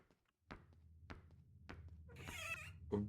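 A door swung open loudly in the horror video game Fatal Choice, a burst of bright creaking rattle after several single dull knocks or footsteps, with a heavy thud at the end.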